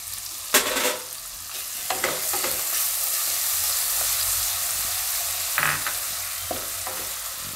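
Ginger and green garlic hit a hot pan of green chillies while making Gujarati dal palak, giving a steady close sizzle with a few sharp bursts and scraping stirs, no voices.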